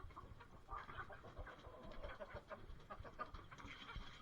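Faint, distant clucking and crowing of roosters and chickens mixed together with low rumbling background noise.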